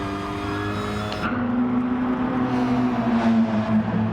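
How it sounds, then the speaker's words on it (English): Rallycross racing in a video game, a Ford Focus chasing a Subaru on the Autopolis short track, with steady high-revving engine drone and a car sweeping past up close. "Pickerick with a Ford Focus chasing William Toady in the Subaru"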